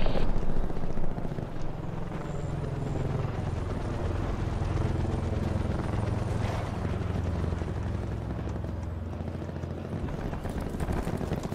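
A care package helicopter in Black Ops 4 gameplay thrums steadily with a dense rotor roar that holds loud and constant throughout, mixed with game effects and background noise.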